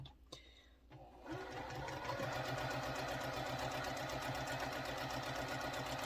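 After a few soft bumps, a sewing machine starts up and runs steadily, stitching a quilt block for a Chisholm Trail sampler pattern with a fast, even mechanical whir, close and continuous.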